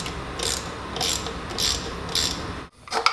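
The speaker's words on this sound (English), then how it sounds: "Now this is when you'll use your 12mm wrench." Ratchet wrench with a 12mm socket working the thermostat housing bolts loose on a Mazda Miata engine, loud close clicking bursts in a regular back-and-forth rhythm, then a brief pause and one more short burst.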